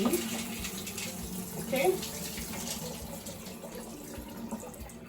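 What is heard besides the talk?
draining water from honey beans into a sieve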